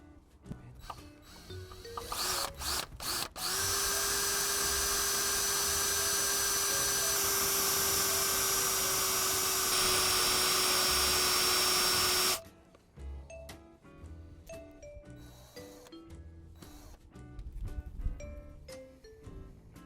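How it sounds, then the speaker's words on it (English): Power drill boring through a part on a Ford Escort MK4 Cabriolet, a sustained high whine lasting about nine seconds, close and loud, framed by clicks and handling noises before and after. "we can drill through it and then try and pop a screwdriver in the hole and use it as a kind of wrench"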